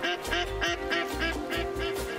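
Ducks in the hunting video game Way of the Hunter quack in a quick, repeated series of nasal calls, close and fairly loud, with several bursts in a steady rhythm and no talking.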